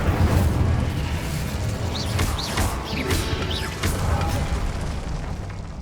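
Incendio fire spell cast in Hogwarts Legacy, a whooshing burst of flame with booming impacts over dense combat noise, sustained and loud across the clip.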